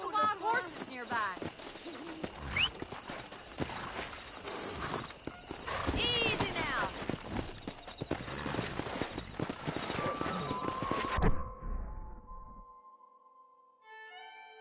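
Wild horses in the Red Dead Redemption video game, hooves clip-clopping near and far with several whinnies and neighs, birds cooing in the background, someone speaking briefly, then the sounds cutting off to a quiet tone.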